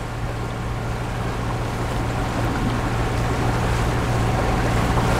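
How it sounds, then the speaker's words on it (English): A sailboat motors under engine on the Chesapeake near Baltimore in light wind. A steady low engine drone runs throughout, mixed with broad, constant rushing wind and water noise, loud and close. "We got about six knots of wind, so we're motoring."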